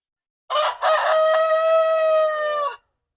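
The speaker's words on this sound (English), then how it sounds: "We're gonna feed Mr. Rooster this morning." A rooster gives a single loud, close cock-a-doodle-doo on a cold farm morning, a short rising opening followed by a long sustained note that ends abruptly, alone in quiet surroundings.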